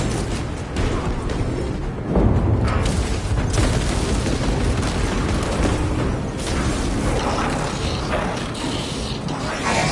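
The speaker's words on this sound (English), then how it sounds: "Throwing crack grenade." A crack grenade blast in the Warhammer Space Marine 2 online game, a deep boom around the two-second mark set within a dense, continuous wash of mechanical clatter and combat noise that stays loud throughout.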